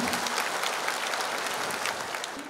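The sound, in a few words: audience clapping hands at a Guru Purnima gathering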